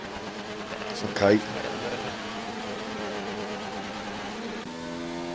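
A glitching race car engine in a racing video game drones with a buzzy, uneven whine, a brief louder burst early on and a harsher, stuttering tone near the end, beneath a short spoken word.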